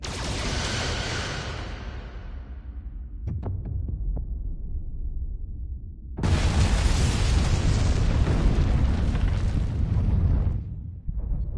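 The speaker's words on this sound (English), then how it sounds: "Firing photon torpedoes." Photon torpedoes destroy a vault in the Star Trek: Resurgence video game. A loud, deep, rumbling blast fades out, a few soft thumps follow, and then a second, heavier, roaring explosion sustains for several seconds.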